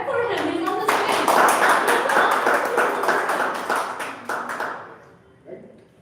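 Audience applause for a person on stage at a Toastmasters club meeting in Jaipur, a dense burst of many hands clapping close by that swells and then fades away over several seconds.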